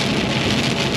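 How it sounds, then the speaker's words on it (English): Rain falling steadily in the countryside, a dense, even wash of drops heard close and loud for a short moment with no voices. "And then it rained."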